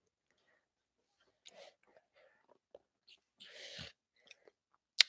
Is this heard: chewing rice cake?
yes